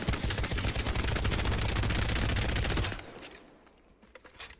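Automatic weapon fire in the Apex Legends video game, a long loud rattling burst of rapid shots that cuts off abruptly, followed by a few fainter trailing sounds.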